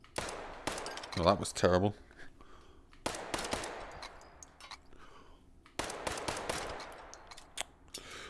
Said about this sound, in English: What gun shooting video is complete without a watermelon being shot?